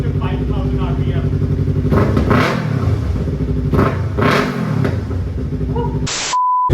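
A Yamaha R3 motorcycle with a full system exhaust revs loudly and steadily at about 5,000 RPM, with throttle blips swelling and falling twice, then cutting to a brief high tone at the end.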